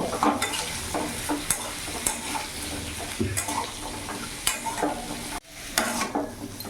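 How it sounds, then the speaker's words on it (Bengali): Turmeric and cumin powder get stirred in a frying pan for a vegetable curry, with a steady sizzle, regular scraping and tapping spatula strokes, and a brief pause near the end before stirring resumes. "হলুদ গুঁড়ো দিয়ে দিলাম জিরে গুঁড়ো দিয়ে দিলাম ভালো করে নাড়িয়ে নেব"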